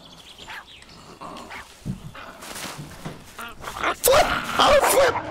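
A dog barks, yips and whimpers in a survival crafting video game, the outbursts growing louder and more frantic toward the end over shuffling game sounds.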